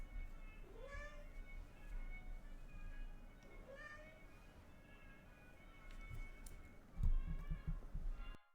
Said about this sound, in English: you need to mew at me when we're between matches